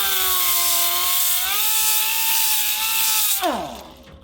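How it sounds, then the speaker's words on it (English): A power tool grinds steadily against a crankshaft, deburring rough edges on parts from a 383 teardown for a 1970 Plymouth Duster big block swap; a loud continuous whine holds its pitch, then spins down sharply near the end. "I have gone through and freshly deburred all of the little rough edges and everything on this crankshaft"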